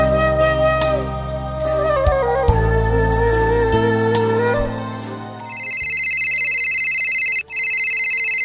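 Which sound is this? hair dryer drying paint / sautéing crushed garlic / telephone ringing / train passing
telephone ringing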